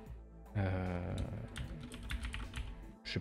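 Rapid typing on a computer keyboard, with dense irregular clicks and clatters over about three seconds, close and fairly loud with no talking.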